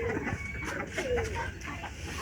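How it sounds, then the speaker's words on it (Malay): Pigeons gather to be fed, with soft coos and bird calls rising over a busy background while people talk nearby. "Kita bagi makanan burung. Banyak gila burung."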